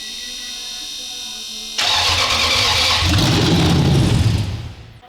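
Toyota Land Cruiser 200 engine cranking and catching into a loud start, with the exhaust pipes not yet fitted, roaring close up for a few seconds before fading.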